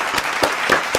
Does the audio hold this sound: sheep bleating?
no